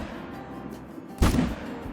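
A single rifle shot at a whitetail buck in the hunting video game Call of the Wild: one sharp, loud crack with a short echoing tail, set against quiet ambient background.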